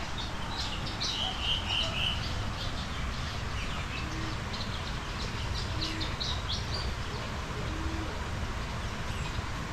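Birds at Zoo Miami chirp in short, scattered bursts over a steady outdoor background hum, with a few soft low coos repeating at intervals.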